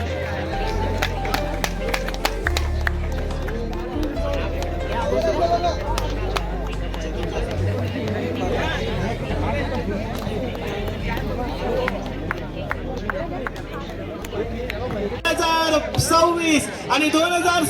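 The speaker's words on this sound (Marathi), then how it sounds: "खरोखर एकदा जोरदार टाळ्या होऊन जाऊ द्या" Crowd applause at the Shivmay Chashak 2026 cricket tournament in Mumbai, held by Raigad Mi Marathi Pratishthan. Scattered claps and crowd hubbub run beneath a loud amplified voice that talks almost throughout, with a sharper burst of clapping near the end.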